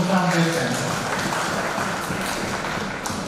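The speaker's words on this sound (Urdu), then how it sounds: "تو ایک دفعہ مہمانوں کے لیے زوردار تالیاں ان کو خوش آمدید کہیں گے" At a poetry gathering, an audience applauds to welcome guests with fairly steady clapping that fills the moment, following a brief stretch of speech at the start.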